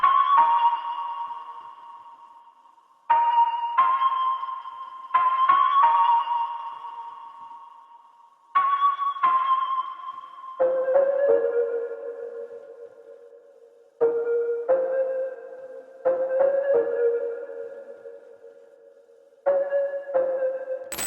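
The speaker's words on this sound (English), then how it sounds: "Now, the next sound I got is this top melody." Reggaeton synth top melody preset, a bright lead playing short repeated phrases that step from a higher pitch down to a lower one, each note decaying, loud and alone with no voices.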